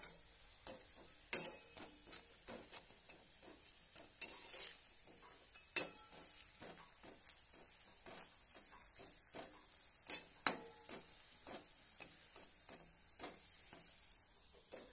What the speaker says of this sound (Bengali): এগুলো লাল করে ভাজতে হবে,